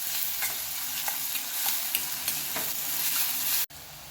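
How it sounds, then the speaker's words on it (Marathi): Sliced onion sautés in a hot pan while being browned lightly, a steady bright sizzle with faint stirring scrapes throughout, then a brief cut near the end before the frying continues. "कांदा देखील आपल्याला थोडासा लालसर असा परतून घ्यायचा आहे"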